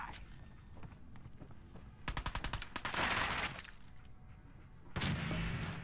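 Bursts of rapid gunfire from the Fallout 4 video game, with a dense volley around the two-second mark, a louder sustained stretch just after, and another sharp burst near the end over a busy game background.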